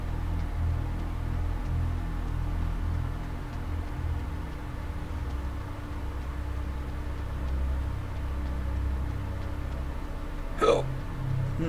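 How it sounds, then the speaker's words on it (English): A single short hiccup near the end, sounding out over a steady low drone of ambient game noise from Dreadout 2, a PC horror game. "got hiccups eh?"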